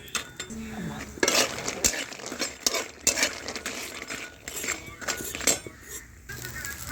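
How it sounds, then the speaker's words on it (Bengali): Lentil dumplings (bori) frying in a wok, heard as repeated metal spatula scrapes and clinks against the pan over a soft oil sizzle, close and moderately loud. "বড়িগুলো দিয়ে দিলাম ভাজার জন্য।"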